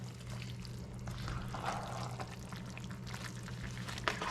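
Pre-cooked ingredients go into a pot of Guyanese cookup rice made with cassareep, giving a soft pouring, trickling slide of food and liquid over a steady low kitchen hum, with a small clink near the end.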